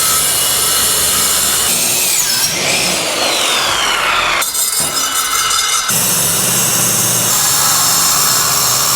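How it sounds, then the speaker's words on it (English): Cutting a relief into metal for a custom toolbox on a bandsaw produces a loud, continuous buzzing rasp with shifting pitch and a brief break midway, heard alone without talk. "what you saw me cutting out on the bandsaw was a little relief with a reverse"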